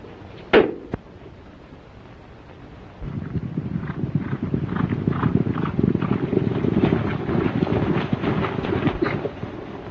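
Horse hooves clip-clop at a ranch in a 1934 Western, starting after a sharp crack and a brief pause, then a steady run of overlapping hoofbeats at a moderate distance.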